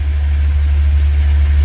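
Ford Mustang car engine idling just after start-up, a steady, loud low rumble holding constant throughout with no voices.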